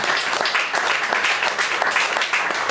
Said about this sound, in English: I think we have to give him a really a clap for him